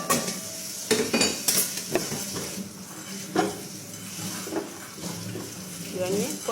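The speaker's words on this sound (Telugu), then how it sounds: "ఇవన్నీ కొంచెం గోల్డ్ కలర్ వచ్చేదాకా వేయించుకుంటాం" Chana dal, urad dal, coriander seeds and cumin fry in a pan until golden, with a soft sizzle under repeated metal stirring scrapes and clinks, while a person talks over it.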